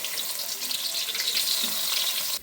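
Garlic sizzles in hot oil in a pan while cooking mee goreng, a dense, steady crackling hiss that stays close and constant throughout, with no talking.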